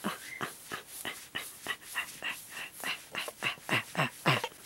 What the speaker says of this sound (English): He's a sweet fluffy puppy.